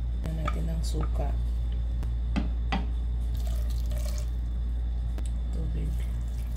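Vinegar poured into a pot while cooking grated cassava, a wet dripping, trickling liquid sound over a steady low hum, with a few clinks and faint voices in the background.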